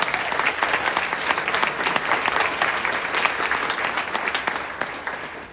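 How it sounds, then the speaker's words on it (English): Conference audience applauding steadily throughout, a dense, sustained wash of many hands clapping at an even level, with faint voices mixed into the crowd. "Can we just give a round of applause to everyone?"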